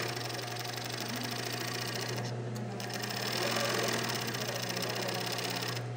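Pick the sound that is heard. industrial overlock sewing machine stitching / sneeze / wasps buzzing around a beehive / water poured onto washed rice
industrial overlock sewing machine stitching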